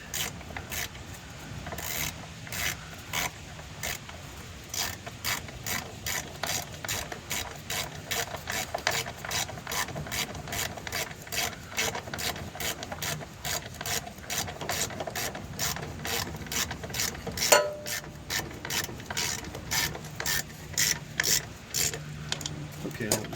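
A ratchet tightens the 15 mm oil pan bolts on a 2011-2016 Chevy Cruze 1.4L, giving close, rapid rhythmic clicking in bursts that continues steadily for over twenty seconds.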